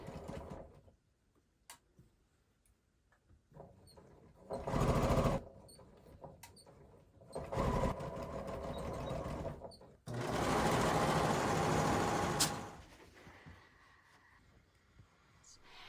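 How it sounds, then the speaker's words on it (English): A sewing machine stitches a trouser seam for pleated pants in bursts, with a long steady run near the end and short stops between; close and fairly loud, no talking. "I'm gonna go ahead and sew that seam with a 1/2 inch seam allowance"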